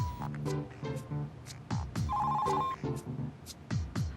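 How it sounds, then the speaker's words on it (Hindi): A telephone rings in repeated electronic bursts indoors, a steady ring pattern sounding over several seconds with faint background voices or music beneath it. "तुम फोन तो उठाओ"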